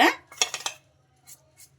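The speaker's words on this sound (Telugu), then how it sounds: "ఇలా స్పూన్ తోటి బాగా కలిపేసుకోవాలి" A spoon mixes gram flour batter in a bowl, giving a quick cluster of sharp metallic clinks and scrapes, then two faint taps after a short pause.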